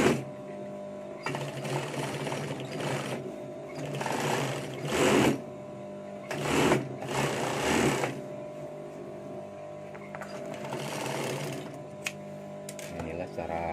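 A sewing machine sews a chain stitch along a t-shirt neckline, whirring steadily in several bursts with short pauses between runs, close and fairly loud, while someone talks.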